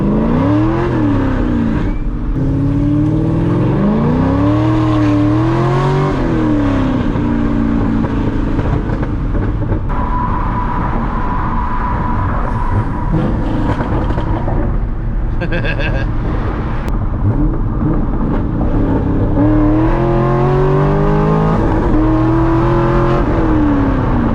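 A C6 Corvette engine revs up and drops repeatedly as gears are shifted, loud and close from inside, with a steady road drone throughout.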